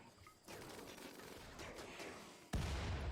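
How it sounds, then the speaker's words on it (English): Grenades going off in Rimworld, a faint muffled crackling rumble that steps up in level once, then a sharper, louder blast near the end. "at this point, Chieftain, you might as well carry on grenading"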